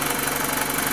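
A BMW E46 with the N46/N42 petrol engine idles with a steady, loud, close mechanical drone and a rough, diesel-like clatter throughout.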